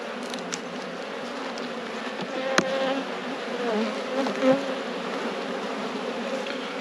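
Honeybees hum in an open, queenless hive, a steady close buzz with a few faint knocks and a brief louder tap partway through.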